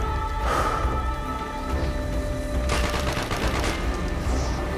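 Dense gunfire in the Call of Duty Black Ops campaign, rapid bursts of automatic fire layered continuously across the clip, loud and close, with a heavier flurry of shots toward the end and no speech.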